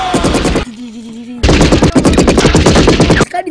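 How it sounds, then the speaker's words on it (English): Rapid bursts of automatic gunfire from the action film Commando, loud and close, break off briefly around a low sustained tone, then resume as a dense, continuous barrage. "Start killing them again with guns. Small guns. Big gun."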